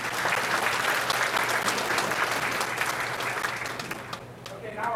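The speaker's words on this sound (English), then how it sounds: "I'd like a special round of applause" Graduation ceremony crowd for Newport's class of 2011 breaks into full, lively applause with crisp individual claps, holding strong before easing off, with a voice emerging as it dies down.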